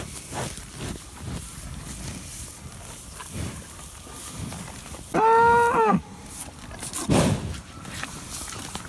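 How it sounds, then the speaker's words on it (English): A cow on a farm lets out one loud, close, drawn-out moo midway, with a shorter lower grunt after it, over rustling outdoor background noise. "Whenever the cows are talking to each other,"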